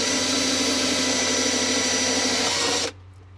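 A handheld power tool cuts steadily through the fiberglass of a boat during a rebuild, a loud continuous whine with no break for nearly three seconds before stopping abruptly.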